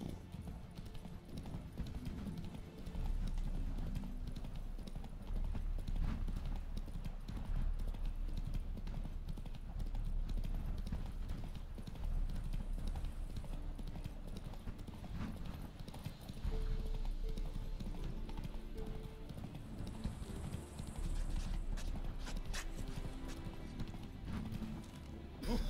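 The horse Roach trots in The Witcher 3, a steady rhythmic clip-clop of hooves running throughout at close range, with a brief faint whinny and no talking.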